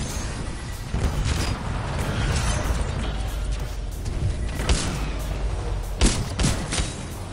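Missiles streak and burst in the Titanfall shooter, a dense barrage of whooshes and explosions with mechanical clatter underneath, loud and near, with sharper impact bursts around the middle and near the end.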